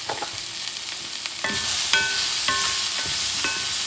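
Mushrooms sauté in butter in a hot pan, an even hissing sizzle that swells slightly midway, with a few short metallic utensil clinks and scrapes, near and steady.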